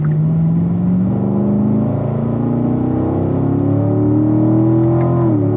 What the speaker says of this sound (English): Nice line down to the apex, accelerating now.